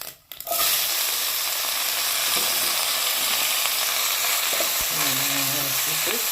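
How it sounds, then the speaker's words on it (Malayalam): Mustard seeds splutter and crackle in hot oil in a clay pot, a loud, steady sizzle with sharp pops throughout after a quiet start. "അതിലേക്ക് നമ്മൾ ലേശം കടുക് ഇട്ട് കൊടുക്കുക."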